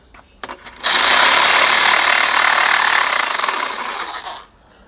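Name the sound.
reciprocating saw (Sawzall) cutting scrap metal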